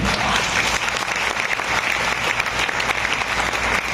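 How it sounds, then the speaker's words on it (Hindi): A seminar audience in Nagpur applauds loudly and continuously, a thick wash of clapping from a large crowd with no pauses. "तालियां कमजोर है"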